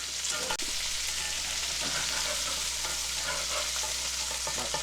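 Salisbury steak patties are flipped in a hot pan: one sharp clunk from the turner, then a loud, continuous frying sizzle with faint scraping throughout.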